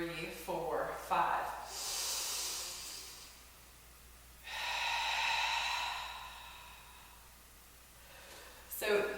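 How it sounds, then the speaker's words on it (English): Rhythmic inhaling and exhaling during the Pilates Hundred exercise, heard as breathy hisses with a long inhale and a long exhale, each lasting a couple of seconds, close and moderately loud. "So inhaling for 5, exhale, inhale 2, 3, 4, 5, and exhale 2, 3, 4, 5."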